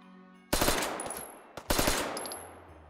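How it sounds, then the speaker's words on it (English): Bursts of automatic fire from a modified Owen gun in the VR shooter Hot Dogs, Horseshoes & Hand Grenades, two loud rapid strings separated by a brief pause, close and sharp with no talking. "That's the Owen gun with a little few modifications"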